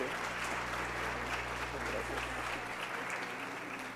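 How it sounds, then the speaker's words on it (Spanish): Audience applause at a dental and oncology medical event, a continuous dense clapping from a sizeable crowd in a room over a low hum, holding steady for the whole stretch. "Les pido de favor, le brindemos un aplauso a la doctora"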